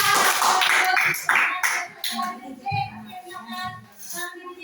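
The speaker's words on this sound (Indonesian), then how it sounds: "Kasih tepuk tangan dulu." A classroom of students applauds briefly with a burst of bright, busy clapping at the start. It fades quickly into children's voices and chatter.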